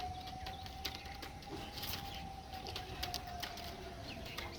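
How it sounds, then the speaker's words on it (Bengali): Madrasi ice pigeons, males, are kept at a pigeon seller's in Bargachiya, Howrah, making faint, soft coos and wing flutters over a low steady hum. Short clicks and rustles are scattered across the background. "পায়রা"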